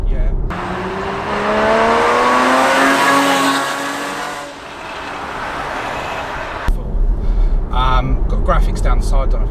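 A Porsche Cayman on Michelin Pilot Sport 4S tyres revs up loudly, its engine note climbing steadily for a few seconds before easing off. A voice speaks over it near the end.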